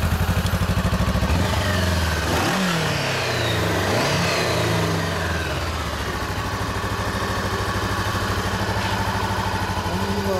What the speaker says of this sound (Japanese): このエンジン音を聞かせてもらおうかな